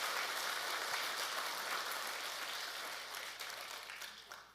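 A church congregation at a Sunday worship service applauds together in a dense, steady wash of clapping that stays even at first, then slowly thins and fades toward the end.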